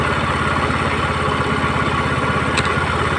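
A Rusi Gala motorcycle engine runs steadily at close range during carburetor tuning, a loud, even, pulsing putter with no talk.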